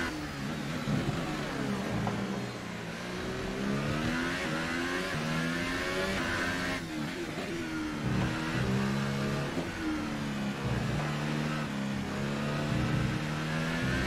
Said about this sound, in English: Now I really hear the engine starting to fall apart.